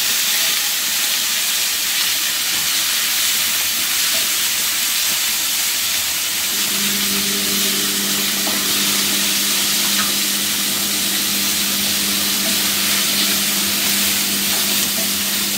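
Onions and green chillies sauté in a hot pan for a prawn gravy, a loud, steady sizzle and hiss that runs close and continuous for the whole stretch, with no voices.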